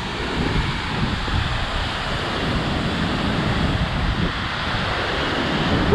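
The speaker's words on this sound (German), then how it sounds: "da unten endet der höchste Wasserfall in Tirol" The roaring Stuibenfall in Tyrol's Ötztal, the region's highest waterfall, pours as a loud, steady broadband rush that fills the air without a break, heard close with no voices.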